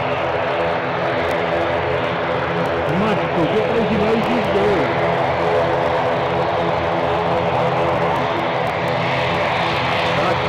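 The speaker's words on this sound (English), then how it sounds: "And I'll hear the sound of the Dublin plane picking up" Propeller airliner bound for Dublin taking off at Newcastle airport, a loud, steady engine roar and whine with shifting propeller tones, heard at fairly close range while someone talks over it.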